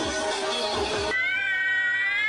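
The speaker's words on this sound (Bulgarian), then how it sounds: "Котките!" Cats meowing: a burst of noisy, rough sound gives way to one drawn-out, rising meow that holds for about a second.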